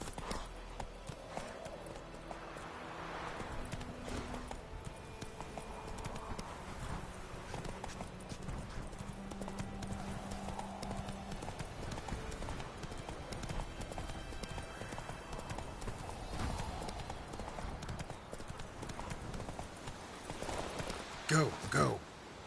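A horse gallops through The Witcher 3, steady rapid hoofbeats running faintly under game music and ambience for the whole stretch, with a voice briefly talking.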